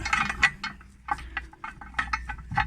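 A Nemesis Plus wheel lock being tightened on a motorhome wheel, a quick run of close metallic ratcheting clicks and scrapes over about three seconds.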